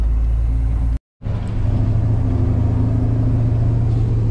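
A truck drives through the town of Torzhok, heard from inside the cab as a steady low engine rumble with road noise. A brief dropout occurs near the start, and the drone then continues unchanged.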